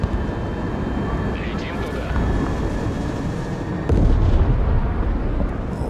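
Osprey tiltrotor aircraft dropping troops during a Broken Arrow battle, heard as a loud continuous rumbling engine roar with booming blasts and a dense low-end battle din, swelling louder toward the end.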